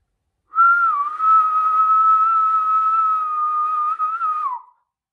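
One loud, sustained, piercing whistle in a closed room, held for about four seconds at a nearly steady pitch with a slight waver at the start and end, alone in silence.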